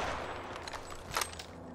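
Gunfire in the video game Apex Legends, a dense burst of rapid shots with a louder crack near the end, heard over steady game noise.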